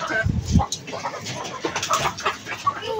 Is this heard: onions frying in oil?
no